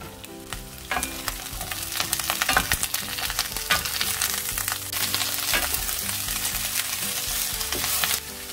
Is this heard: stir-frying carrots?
yes